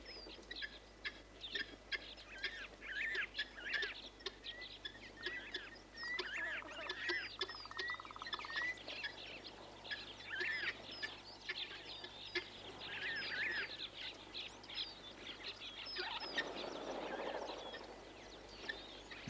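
Water birds, especially waders, gather at a waterhole and feed on swarms of small flies, giving a continuous chorus of honks, chirps and chattering calls at a modest distance with no talk.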